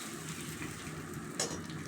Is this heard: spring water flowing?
no